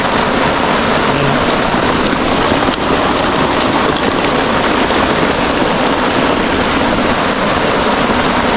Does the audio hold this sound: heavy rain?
yes